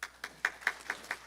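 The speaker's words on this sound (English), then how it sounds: "Let us welcome him with applause" A handful of evenly spaced claps, about six in quick succession, sound faintly at an international manufacturing technology conference as a presenter is welcomed.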